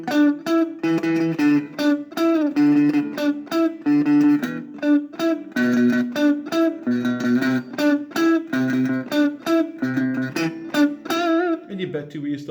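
An electric guitar plays a riff, a quick staccato pattern of clipped, muted notes and short chords repeated in a steady, driving rhythm for about twelve seconds, loud and close with no voice.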